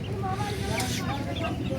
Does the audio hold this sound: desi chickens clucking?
yes